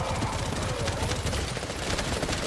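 Rapid automatic gunfire in The First Descendant, a dense, continuous burst of shots rattling loudly and steadily for the whole stretch with no pauses.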